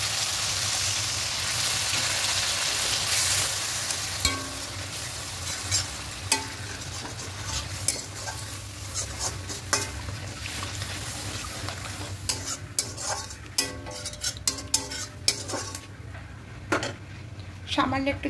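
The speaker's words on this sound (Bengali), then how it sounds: "ভালো করে কষিয়েছি, মশলা থেকে তেল ছাড়তে শুরু করেছে একদম" Spice paste for a tilapia curry frying in oil in a pot, with a constant close sizzle broken by frequent sharp scrapes and taps of the spoon against the pan.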